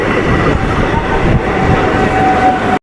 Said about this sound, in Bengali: এই যে ফাইনালি আমাদের হাওড়া যাওয়ার ট্রেন ঢুকে গেছে